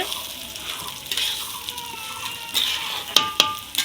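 Steady close-up sizzling of lentils and rice frying together in a pan, with a few sharp clicks and taps from a utensil near the end.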